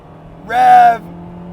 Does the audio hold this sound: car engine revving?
yes